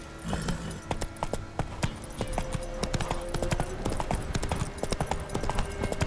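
Roach, a horse in The Witcher 3, clip-clops along in a steady, close hoofbeat rhythm over several seconds, with faint background ambience and no talking.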